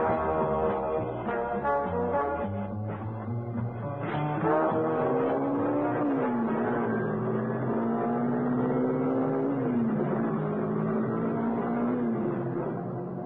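Car speeding along an open road in an audio drama, a continuous engine drone whose pitch climbs and shifts through gear changes, steady and fairly distant, with no talking.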